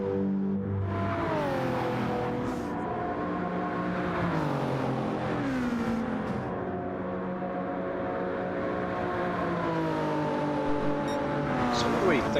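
A race car in a racing video game drives a flying lap on new tyres, a steady engine whine rising and falling with gear changes and throttle, continuous under commentary voices.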